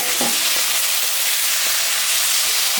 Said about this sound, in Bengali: ভাজা হয়ে গেছে, এখন আমি আলুটা দিয়ে দেব